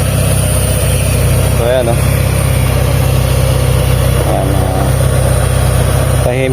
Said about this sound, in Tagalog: first start yung engine natin